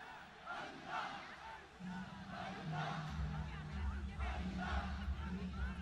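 A large crowd at the Wagah Border ceremony chants "Allah Allah" in unison, rhythmic shouts rising and falling at a distance over a steady low rumble.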